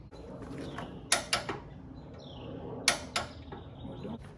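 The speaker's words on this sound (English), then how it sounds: "we're going to use our torque wrench now, set it to 27. And we're going to torque this down" A torque wrench tightens a bolt on the serpentine belt assembly of a Porsche, giving two quick bursts of sharp ratcheting clicks, each about three clicks, close up in a quiet garage.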